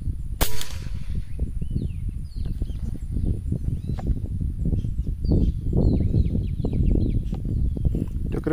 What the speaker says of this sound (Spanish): Ahí di dos disparos.